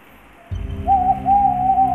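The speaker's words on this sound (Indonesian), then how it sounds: "Suara burung hantu." A low, steady hum fills the background while a tonal, cooing hoot rises after a second and repeats in drawn-out calls, like an owl at night.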